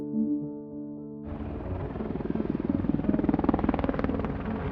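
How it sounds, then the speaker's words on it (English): Two Black Hawk helicopters with stealth technology take off from Jalalabad airfield at night; after a held musical tone, loud rhythmic rotor chop cuts in and keeps thumping steadily, with no voices. "2 Black Hawk helicopters, equipped with secret stealth technology, take off from Jalalabad airfield and head towards bin Laden's compound."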